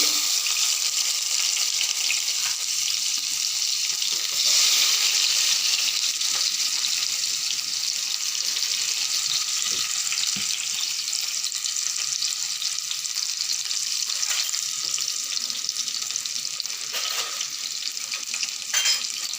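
Thinly sliced onion frying in a pan for a mutton fry, a steady, dense hiss and crackle of hot oil that runs continuously and close, with no talking.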